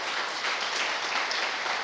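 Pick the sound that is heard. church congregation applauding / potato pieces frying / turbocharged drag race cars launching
church congregation applauding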